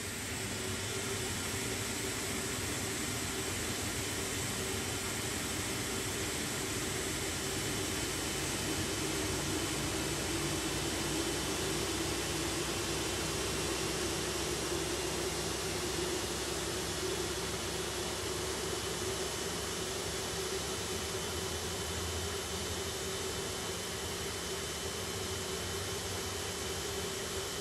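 Steady jet engine whine and broadband roar, a continuous even drone with a sustained tone, as an Airbus airliner engine spools up in a flight simulator game.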